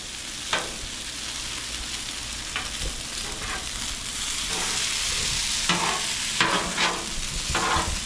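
Food frying on a hot Blackstone griddle, a steady loud sizzle with metal spatulas scraping and tapping across the flat-top now and then, close up.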